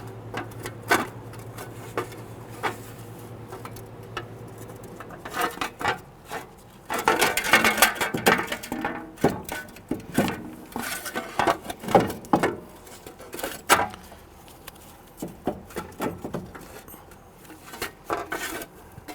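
Metallic clanks, taps and scraping as a front wheel hub slides onto its backing plate on a 2008-2013 Infiniti G37, irregular close knocks that grow busier partway through, with no speech.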